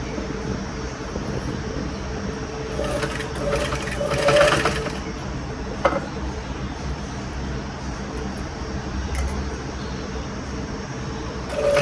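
A sewing machine runs steadily, stitching a saree frill for an anarkali dress, a continuous close mechanical whir with a few brief louder bumps along the way.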